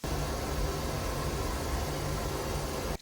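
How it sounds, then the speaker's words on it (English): Steady, broadband hiss of pink noise playing through a studio monitor speaker for about three seconds, then cutting off abruptly. "you'll run pink noise through your speaker"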